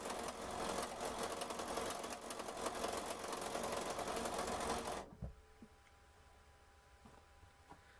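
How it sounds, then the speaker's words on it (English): A sewing machine stitches fabric quilt strips together with a loud, rapid, steady mechanical whirring for about five seconds, then stops abruptly, leaving quiet room tone with a few faint clicks. "now I'm just sewing them together"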